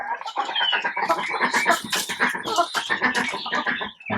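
A flock of Rhode Island Red chickens clucking and squawking continuously, many overlapping calls close by, busy and loud throughout.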